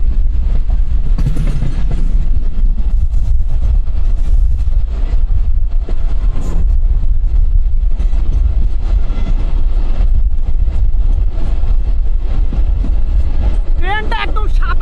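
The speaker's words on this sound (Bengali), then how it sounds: "ট্রেনটা একদম সাপের মতো একদম বাঁকা হয়ে গিয়েছে এখান থেকে।" A passenger train running on rails toward the port of Mongla, Bangladesh, heard from on board as a loud, constant rumble with rattling wheel clatter; voices talk over it throughout.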